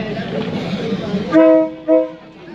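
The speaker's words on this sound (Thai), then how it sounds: "เดี๋ยวเราจะชมรถไฟนะครับที่วิ่งผ่านบริเวณนี้กันนะครับ" At the railway market of Rom Hup in Mueang Samut Songkhram, a train sounds two loud, close horn blasts in quick succession over a murmur of crowd noise and voices.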